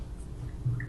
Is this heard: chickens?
no